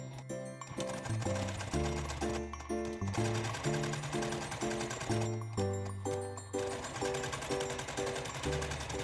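A sewing machine stitches a seam closing the loop opening of a Christmas stocking, running in steady rapid bursts with brief pauses between them, close and clear, with no talking.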